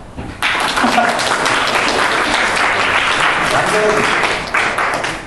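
Audience applause fills a lecture hall during a special talk at a university, a dense, steady burst of clapping that starts abruptly and holds for several seconds before tapering slightly.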